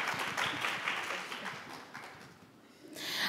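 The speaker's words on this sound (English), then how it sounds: "Yes, clap for that." Audience applause at a university public history event, a moderate wash of many hands clapping that fades after about two and a half seconds before a fresh swell at the end.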